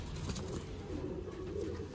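Pigeons of the Sialkoti breed cooing softly in a loft, a low, faint murmur under steady background noise.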